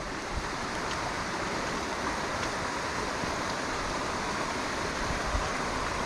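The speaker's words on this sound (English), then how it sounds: "So you can hear the river running quite fast here" A fast-flowing river near Gayle waterfall, swollen by hillside runoff in the rain, rushes in a steady broadband roar, close and unbroken throughout.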